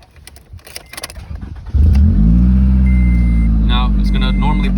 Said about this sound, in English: you can feel free to turn your car on.